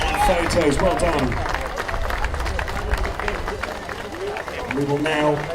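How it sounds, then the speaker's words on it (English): Applause and crowd babble at an XCAT powerboat racing award ceremony in Fujairah, clapping and hubbub running steadily under an announcer's voice and music-like tones. "A round of applause and photos, well done."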